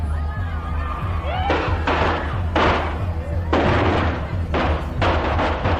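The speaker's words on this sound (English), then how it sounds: "What sounded like shots turned out to be Chinese firecrackers" Chinese firecrackers pop and crack in a string of sharp, gunshot-like bursts that land irregularly over a crowd's loud, continuous hubbub.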